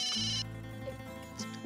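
A mobile phone rings with a bright electronic ringtone in an indoor family scene, one steady tonal burst followed by a quieter chime, with no talk over it.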